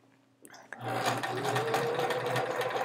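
A sewing machine stitches two small red fabric pieces together for a chevron quilt, starting after a faint click and then running steadily in a fast, even whir close by.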